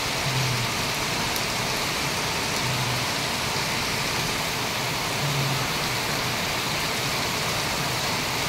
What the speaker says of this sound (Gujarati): સેલવાસ અને આસપાસના વિસ્તારમાં પણ વરસાદ વરસી છે